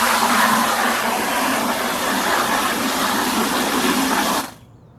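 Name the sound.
garden hose filling a 5-gallon bucket with water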